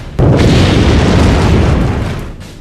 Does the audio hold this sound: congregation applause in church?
no